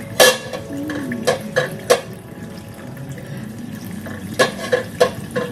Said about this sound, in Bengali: থালাটা মেজে এবার স্নান করতে যাবো। থালা ভাজছি